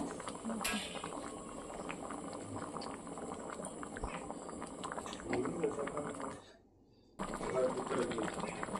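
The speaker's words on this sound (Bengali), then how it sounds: "মাঝে মাঝে নেড়ে দিচ্ছি" Spicy ghugni, a Bengali pea curry, bubbles and simmers in a pot on a gas flame while it is stirred now and then, a soft continuous boiling crackle with faint scraping that briefly drops away near the end.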